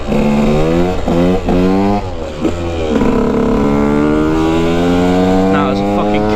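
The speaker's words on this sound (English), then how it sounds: "now there's a fucking car" A car drives past on a road near a KTM EXC 125 dirt bike, its loud engine tone rising and falling over several seconds, close and steady throughout.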